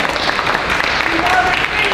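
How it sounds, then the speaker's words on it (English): A crowd at a ward leadership council candidates' forum claps steadily throughout, a dense wash of applause with some voices mixed in underneath. "Give him a round of applause."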